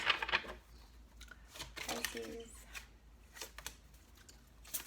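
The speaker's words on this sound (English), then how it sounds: "This will be our last shuffle." Tarot cards are shuffled in short papery bursts and riffles, close up, with quiet pauses between them.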